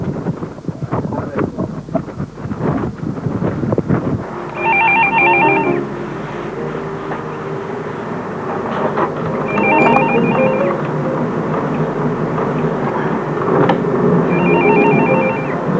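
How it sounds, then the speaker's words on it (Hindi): A telephone bell rings in short repeated bursts, three in all, clear and fairly close, after a stretch of rustling and shuffling noise with a steady background hum. "फोन उठाओ।"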